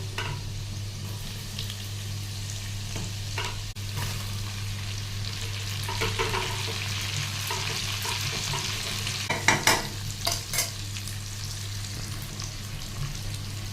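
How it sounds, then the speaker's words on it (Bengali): Chopped garlic and ginger fry and get stirred in a pan for homemade restaurant-style chili chicken, with a continuous close sizzle and a low hum. Sharp spatula scrapes cluster near the end. "রসুনটা দেওয়ার পরে কিন্তু মোটা মোটামুটি দু তিন সেকেন্ড মতো একটু ভালো করে নেড়ে নেবো তো এবার আমি আদা কুচিটা দিয়ে দেবো"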